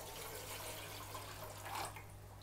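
Water carrying a brood of angelfish fry is tipped from a jar into a breeder box, giving a quiet, steady pour with soft trickling that swells briefly near the end, with no talking.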